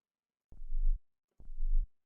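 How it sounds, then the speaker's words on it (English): Two deep, thudding heartbeat pulses from a sound effect, each a short low throb, evenly spaced about a second apart against silence. "a heartbeat or something"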